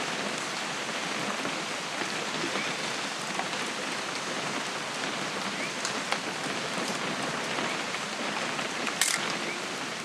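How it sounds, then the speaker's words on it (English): Steady, dense rainfall in the video game What Remains of Edith Finch patters across a surface, continuous and even, with a brief sharper tick near the end. "It's gonna rain the whole weekend, isn't it?"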